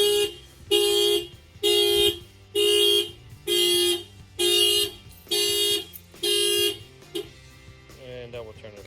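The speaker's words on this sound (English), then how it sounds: "I'm gonna get ready to hit this tire here, and that will trigger the alarm." Factory car alarm on a Subaru Ascent set off by its shock sensor: eight loud, steady horn-like blasts in an even rhythm, then a chirp and quieter beeps as it is switched off.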